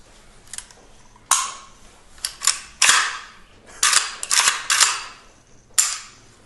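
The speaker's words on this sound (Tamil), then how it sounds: "அங்கேயே கிஃப்டை ஓப்பன் பண்ணி அந்த துப்பாக்கி எடுத்து அவர் ஹேண்டில் பண்ணாரு பாருங்க கிம்மு" A rifle is unwrapped from its gift packaging and handled: a series of sharp mechanical clicks, clacks and rustles in irregular bursts, close and fairly loud, with no talking.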